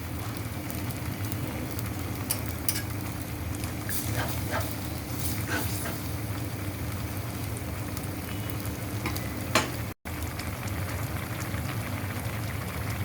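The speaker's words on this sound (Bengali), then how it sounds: "পালং শাকের এই তরকারি আমি এখন হাই হিটে রান্না করব" Spinach and prawn curry bubbling on high heat in a pot, a steady simmering boil with scattered crackles and pops, close and moderately loud, no voices.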